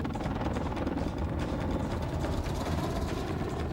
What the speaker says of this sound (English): Denel present this light attack helicopter, one that hunts amongst the weeds and operates mostly below 50 feet.